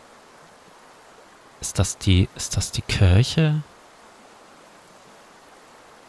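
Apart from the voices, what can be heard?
river flowing in the video game Metro Exodus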